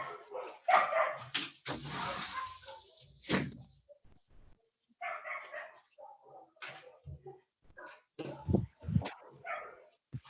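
A dog barks several times during a class, loud and close, with scattered knocks and door-like thumps between the barks.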